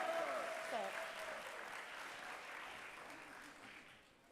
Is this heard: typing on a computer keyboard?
no